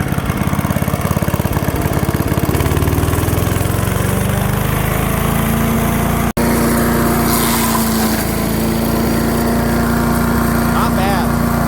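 A 1991 Craftsman chipper shredder engine with a new shredder blade rises from idle to a loud, steady high-RPM drone, with a brief cutout midway, running close and continuous throughout.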